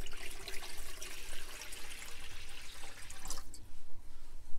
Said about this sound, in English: now let's give everybody new fresh water